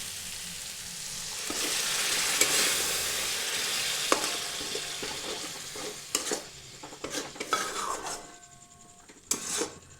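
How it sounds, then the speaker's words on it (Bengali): Water goes into spice masala frying in a pan for garlic Maggi: a loud, broad sizzling hiss that gradually settles, followed by scattered clinks and scrapes of a utensil against the pan. "তারপর এখানে দিচ্ছি কিছুটা জল"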